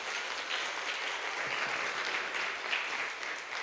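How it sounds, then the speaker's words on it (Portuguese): A church congregation claps steadily in a continuous wash of applause at a moderate distance, with no voices standing out. "Aplaude Jesus, igreja."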